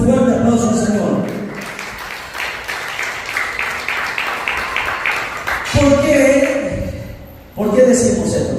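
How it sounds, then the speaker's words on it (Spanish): A church congregation bursts into applause, with a few seconds of steady, moderately loud clapping between stretches of a preacher's voice, which frames it on both sides. "den un fuerte aplauso al Señor"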